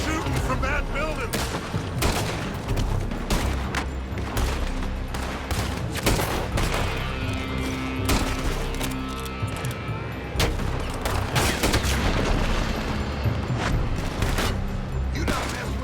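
Red Dead Redemption 2 shootout with sustained gunfire: rapid repeated rifle and revolver shots crackling without pause, loud and dense, with occasional heavier booms and shouted lines between.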